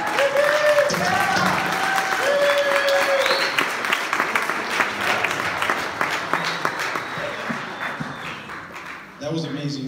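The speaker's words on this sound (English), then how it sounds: "One more round of applause, please." Audience applause after a speech on gentrification and poverty in Tucson, broad and sustained clapping that gradually thins out, with voices and cheers mixed in and a speaker talking near the end.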